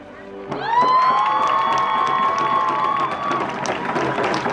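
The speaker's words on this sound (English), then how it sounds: "pulling up and seeing everybody cheering you on and getting to come ashore" A crowd on shore cheering as canoe paddlers arrive at the Muckleshoot canoe journey: a sudden swell of loud, sustained cheers and whoops with applause, several voices calling out over the roar.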